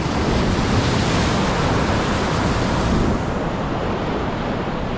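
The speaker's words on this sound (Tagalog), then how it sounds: "grabe lakas lang alon dito" Strong ocean waves wash onto the shore in a steady, loud, dense roar of surf with wind buffeting the microphone, continuous throughout with no voices.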